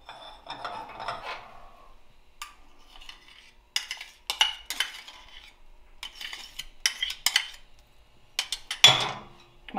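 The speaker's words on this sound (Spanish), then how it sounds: "Vamos a mezclar un poquito." A spoon scrapes and clinks against a pot while cream is stirred into hot squash soup, giving irregular close metallic taps and rubbing strokes separated by short quiet gaps.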